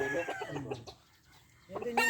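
A rooster clucks and crows close by, in short bursts with a brief quiet pause between them.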